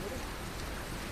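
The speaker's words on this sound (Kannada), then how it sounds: "ಅಲ್ಲಿ ಧಾರಾಕಾರ ಮಳೆಯಿಂದ" Torrential hailstorm rain over Bengaluru, a dense, steady broadband roar of downpour that fills the whole short stretch with no breaks.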